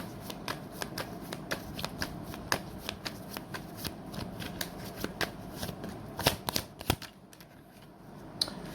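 Tarot cards are shuffled by hand at close range, a run of quick riffling slaps and soft flicks in an irregular rhythm, fairly quiet, with no talking over it.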